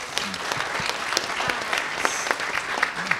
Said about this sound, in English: I wanted to let that applause happen